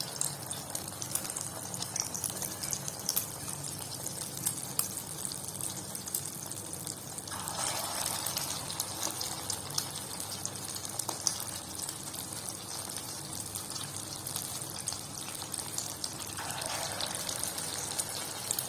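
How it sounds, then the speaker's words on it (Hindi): Egg-dipped shami kebabs shallow-fry in oil over low heat, giving a steady, even bubbling hiss that swells slightly at intervals over nearly twenty seconds. "अब हम शामी कबाब को अंडे में डिप करके तेल में फ्राई कर लेंगे।"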